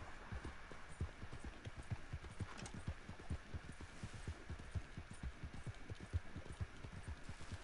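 Horse hooves clip-clop in the video game Red Dead Online, a steady rapid rhythm of soft, thudding footfalls continuing evenly throughout at a moderate distance, with no talking.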